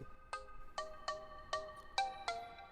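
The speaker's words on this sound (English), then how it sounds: "Now, I wonder who this is calling my phone." A phone ringtone signals an incoming call, playing six bright, evenly spaced chime bursts in a steady repeating rhythm over a quiet background.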